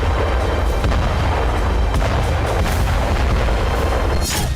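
Heavy gunfire aimed at water surface drones, loud dense booms and bursts crowding together with no pause, close and forceful.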